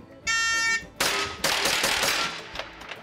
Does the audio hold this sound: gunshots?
yes